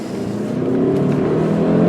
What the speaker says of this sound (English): as soon as the traffic clears, we're gonna go. And I can actually take off in between cars because this thing flies.